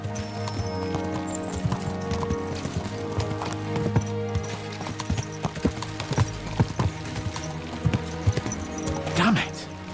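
Horses galloping in the medieval video game Kingdom Come: Deliverance II, a steady stream of clip-clopping hooves under game music and ambience, with a whinny near the end and some talk.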